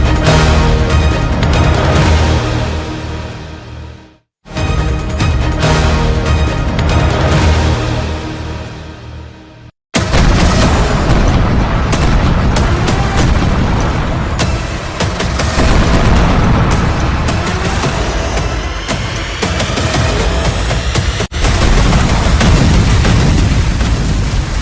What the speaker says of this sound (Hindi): जंगी जेट से बरसे बम जब धरती पर फट रहे हैं